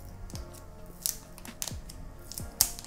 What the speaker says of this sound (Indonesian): So sekarang kita buka plastik ni sama-sama